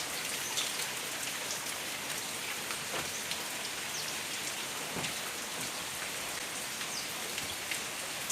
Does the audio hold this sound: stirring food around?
no